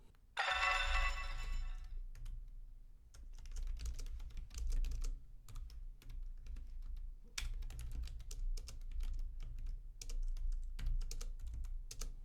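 Rapid, steady clatter of computer keyboard typing, close and continuous for several seconds while Lua code is entered, preceded by a brief ringing tone at the start; no talking.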